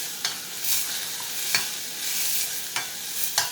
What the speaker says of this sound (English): let's go ahead and get that to sauteing before we add our pasta sauce